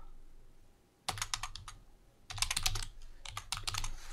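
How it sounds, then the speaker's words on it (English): Quick bursts of typing on a computer keyboard, clicking keystrokes in two or three short runs separated by pauses, close and clear in a quiet room. "Let's just type in drop shadow test."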